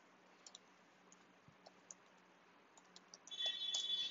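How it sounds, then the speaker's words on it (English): A username is typed on a computer keyboard as a run of soft, irregular key clicks, quiet and close, ending in a brief denser burst of keystrokes, with no talking. "So let me type in the username."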